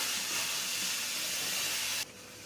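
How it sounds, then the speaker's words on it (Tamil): Water boils in a pot, ready for adding raw mango, with a loud, steady steamy hiss that cuts off abruptly near the end. "கொதி வர ஆரம்பிக்குது."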